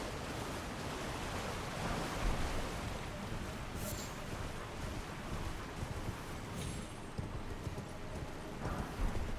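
Steady hoofbeats of a galloping horse in Elden Ring, a continuous rapid clip-clop over a broad rushing wash of noise, with a brief high whinny-like accent.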